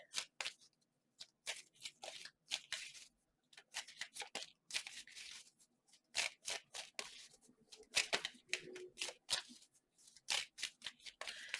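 Tarot cards being shuffled by hand, some flipping partly out: quiet, irregular bursts of papery riffling and slapping with short pauses between, close up and alone.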